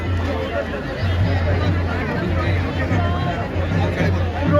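A large crowd murmurs and chatters steadily at an outdoor election campaign rally for a mayoral race in Uttarakhand, a continuous babble of many voices with a low hum beneath.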